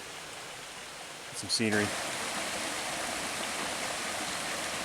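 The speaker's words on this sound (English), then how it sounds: "I'll see some waterfalls and some pools of water down here." Steady rushing water from waterfalls and a flowing stream along the Black Forest Trail fills the whole stretch as a constant broadband roar, with someone briefly speaking over it near the start.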